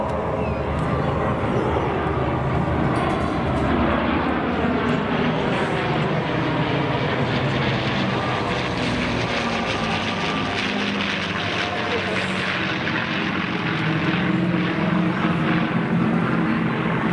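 Lockheed P-38 Lightning twin-engine fighter flying at an airshow, a continuous loud propeller engine drone with Doppler-shifting pitch as it passes, an announcer talking over it.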